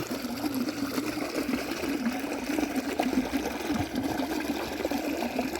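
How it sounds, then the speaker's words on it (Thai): Water gushes up through a pipe into a rice field flooded by the Mekong, a steady close gurgling and trickling flow that carries on evenly with no talk. "ใครเคยเห็นน้ำไหลขึ้นโน่นนี่ไหลในท่อนี่"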